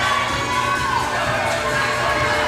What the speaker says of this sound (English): People cheering for Tia.